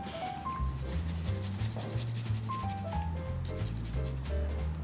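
Fresh ginger is grated on a microplane grater, making a steady, rhythmic rasping rub of repeated short strokes up close, with soft background music underneath.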